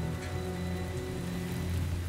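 Rain falls in Marvel's Spider-Man on PS4, a steady, even patter over a low tonal hum, heard without voices.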